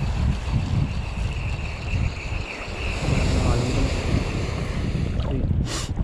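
Ocean waves breaking at a coastal fishing spot where snapper are caught, a continuous rushing surf with heavy wind buffeting the microphone, loud and close, with a brief louder splash near the end.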